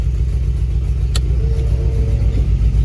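A car engine idles with a steady low rumble that dips slightly as the revs drop, joined by a single brief click near the middle and a faint whine as the headlights move.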